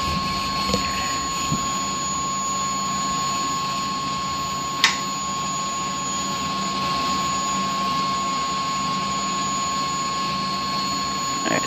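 A CH-47D helicopter engine in the X-Plane 11 flight simulator hums steadily through a start sequence, a constant droning whine with a sharp click partway through, alone without talk.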